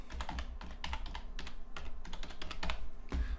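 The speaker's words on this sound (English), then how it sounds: "type in description" Keys clatter on a computer keyboard in quick, uneven bursts of close, crisp taps, with brief pauses between runs of typing.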